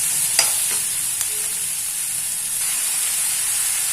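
Mushrooms and egg mixture frying in a pan for an omelette, a steady close sizzle and hiss with a couple of faint clinks of stirring near the start.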